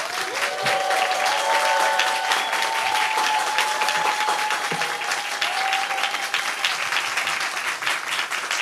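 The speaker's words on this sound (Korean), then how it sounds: "우리 목사님 올라오실 때 큰 꿈의 박수로 환영하도록 하겠습니다." Church congregation applauding at a Korean early-morning special prayer service as the senior pastor comes up, steady dense clapping sustained throughout, with a faint sustained tone running beneath the applause.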